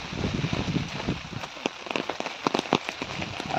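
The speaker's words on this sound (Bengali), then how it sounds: "আর আই হোপ তোমরা বৃষ্টির আওয়াজও শুনতে পাচ্ছ" Rain pours over the Gopaldhara tea estate in Mirik, Darjeeling, a steady close hiss of drops striking leaves and the path, with sharper individual drips popping out through it.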